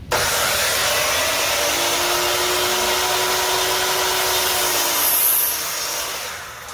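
A plunge track saw cuts through wood on locked rails, a loud, steady, close, broadband whine that holds for several seconds and then winds down near the end.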